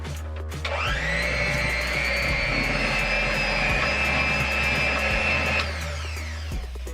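An electric mixer whips shea butter and coconut oil into homemade lotion, spinning up to a steady high whine, holding for about five seconds and then cutting off. The sound is close and loud with no talk.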